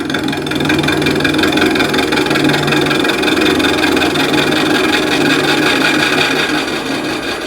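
A milling machine slowed to 300 RPM while cutting metal, with the end mill working from mid-flute down, gives a steady, continuous mechanical drone and whir at even loudness throughout, no talk over it.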